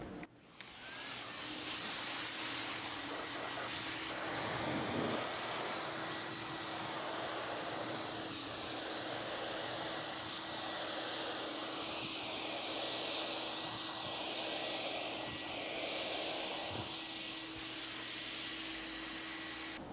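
Spray gun laying a pearl coat across a car hood in wet, overlapping passes, a steady close hiss of atomized paint running continuously with slight swells between strokes, no talking.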